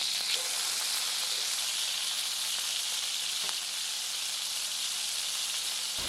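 A freshly flipped wagyu smash burger fried in tallow sizzles on a hot cooking surface, giving a loud, steady, even hiss throughout with no speech.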